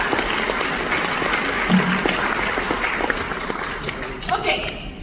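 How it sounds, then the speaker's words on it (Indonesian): A crowd at a university open house claps for a business school, with dense applause that swells and then thins, and a voice heard briefly over it. "Tepuk tangan dulu dong untuk SBM ITB ya"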